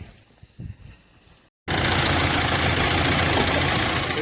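A car engine idles during electrical diagnosis: after a quiet stretch of faint clicks and a brief silence, a loud, steady running drone starts and holds to the end.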